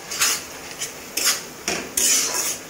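Metal spoon scraping and clinking in a cooking pot while red chili powder and turmeric are stirred into a homemade country chicken and potato curry, several distinct scraping strokes at close range.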